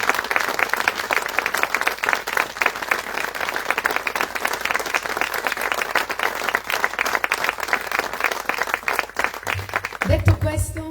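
Sustained audience applause at a Sardinian choir concert in Romanzesu, dense steady clapping filling the hall for about ten seconds before fading into a voice at the end.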